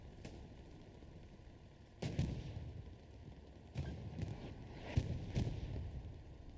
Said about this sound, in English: Artillery hamming the front line right here.